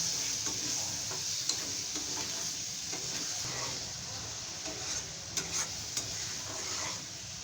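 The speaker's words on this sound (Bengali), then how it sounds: "এখন সুন্দর করে ভালো করে নেড়ে চেড়ে এটাকে মশলার সাথে মিশিয়ে নিতে হবে" Shrimp stirred into sizzling spice paste in a frying pan for a Bengali shrimp bhuna: steady close frying hiss with scraping stir strokes and a few sharper clinks near the end, no talking.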